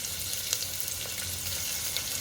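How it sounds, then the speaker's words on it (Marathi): Chopped onion with curry leaves and ginger-garlic paste frying in a pot for sambar, a soft steady sizzle with faint occasional stirring ticks, no voices. "हे व्यवस्थित फ्राय करून घेऊया"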